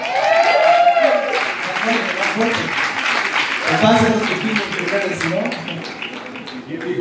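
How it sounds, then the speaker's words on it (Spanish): Applause from the audience at an A+E Networks Latin America upfront event, a steady wash of clapping mixed with an announcer's voice and tonal sounds across the whole stretch. "Un aplauso para él, por favor."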